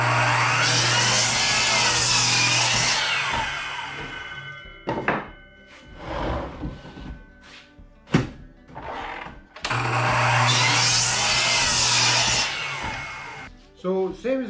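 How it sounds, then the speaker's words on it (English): A table saw rips wood into fence stringers for repairing garden fences, with two long, loud cutting passes separated by a quieter stretch of knocks, handling sounds and some talking. "and then rip them on my table saw"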